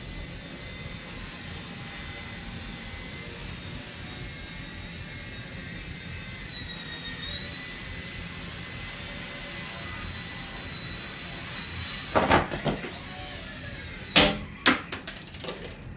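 Small Blade 70 S micro RC helicopter rotor spinning up indoors, a steady high whine with harmonic tones throughout, then sharper clattering bursts near the end.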